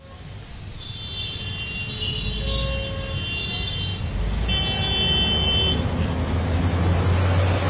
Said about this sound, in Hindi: वहां पर गाड़ियों की, बसों की आवाजाही तो दिख रही है